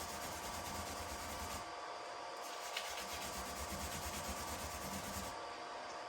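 Steady abrasive rubbing of a pad scrubbed in rotating strokes over heat-stained steel side emitters, a continuous close, even scratching hiss with brief dips in level and no talk.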